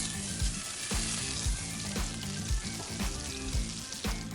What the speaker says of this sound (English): while that butter is foaming